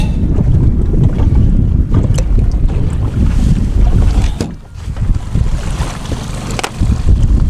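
Strong wind buffets the microphone aboard a fishing boat out trolling for walleye, a loud, continuous rumbling roar with gusty surges and one brief lull midway, no voices.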